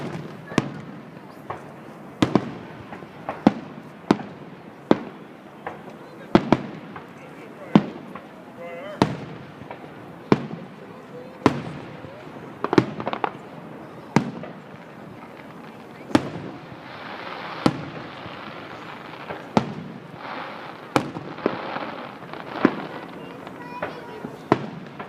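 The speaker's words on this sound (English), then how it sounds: "Good old fireworks." A fireworks show in Mentor, Ohio, in 2014: a long run of sharp, loud bangs at irregular intervals, some close together, with crackling in the gaps and a few voices faintly in the background.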